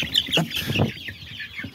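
Silver Sebright chickens cluck in a farmyard, several close, repeated clucks and short calls overlapping in an uneven rhythm, fairly loud with no talking.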